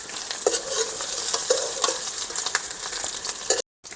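Potato pieces fry in hot oil with a little salt while a spatula stirs them. The sizzle is loud and steady, broken by repeated scraping strokes, and cuts off abruptly at the end.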